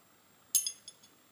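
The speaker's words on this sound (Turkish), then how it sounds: "Tatlı kaşığı." A metal dessert spoon clinks a few times as it is picked up and set among other cutlery, one sharp bright tap followed by two or three fainter ones, close and otherwise quiet.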